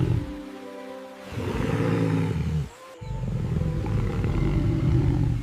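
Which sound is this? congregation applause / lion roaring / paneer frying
lion roaring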